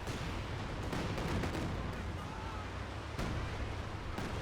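Cannon fire and battle noise from the World War II strategy game Company of Heroes 2, a dense, loud barrage of shots and blasts with a sharp break near the end.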